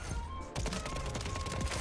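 Gunfire in a Call of Duty multiplayer match erupts abruptly after a short lull, a dense continuous burst of rapid shots filling the rest of the moment at close range.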